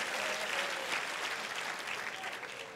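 A church congregation applauds for the Lord during a sermon, sustained dense clapping from many hands that stays fairly even and fades slightly toward the end.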